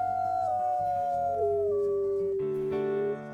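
A wolf howls in a video game, one long sustained wail that slides down in pitch and holds steady before ending abruptly, loud and alone over a backdrop of layered game music.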